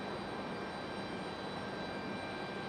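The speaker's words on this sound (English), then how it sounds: "Not a very loud arrival for the 777 this evening." Boeing 777 arriving at Raleigh-Durham airport on a stormy evening, a steady, fairly subdued broadband jet roar that holds even throughout without distinct peaks, heard at a moderate distance with no talk.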